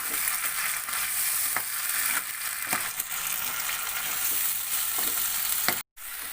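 Leaves being sautéed and stirred in a pan for tilapia pesmol, a steady sizzle broken by intermittent scraping stirs, with a brief dropout just before the end.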